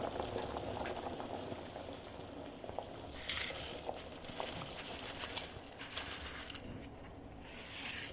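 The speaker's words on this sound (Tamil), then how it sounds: "இப்போ இது நல்லா கொதிக்குது." Water boiling in a pot for mutton biryani rice, a continuous bubbling simmer with small pops and occasional brief clatters, moderate and close with no talk.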